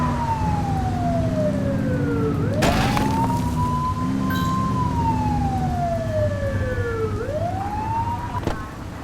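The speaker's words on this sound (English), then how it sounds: "Get on their tail and flip the siren." A police car siren from the video game The Precinct wails in long rising and falling sweeps over a low engine rumble, with a couple of sharp bursts cutting through midway.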